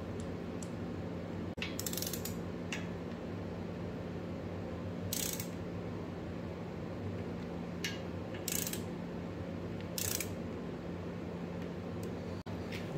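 Three bolts being fitted to the oil pump on a VQ37VHR engine: close, sparse metallic clicks and short ratchet bursts spaced apart over a steady low background hum.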